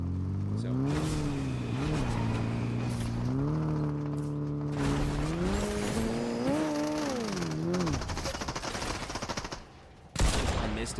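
A car driven in the Fortnite video game, its engine drone rising and falling in pitch as it moves, loud and continuous for most of the stretch with game noise around it, before a brief drop and a sharp burst near the end.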